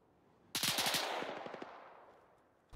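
A rapid burst of automatic gunfire in a video game, about a dozen close, sharp shots in quick succession that fade into a long decaying echo.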